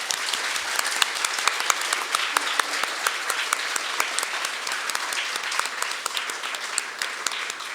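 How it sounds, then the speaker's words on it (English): A large crowd at a graduation ceremony gives sustained applause, a thick, even wash of many hands clapping with sharper individual claps popping out throughout. "I hope we can give them a big round of applause."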